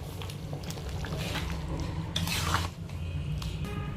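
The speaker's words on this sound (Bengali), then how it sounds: "এবার এটা ভালো করে মিশিয়ে নেবে" A spoon stirs a shahi malai paneer gravy with dry-roasted kasuri methi added, giving soft close scraping and a light bubbling sizzle with faint clinks against the pan, no voices.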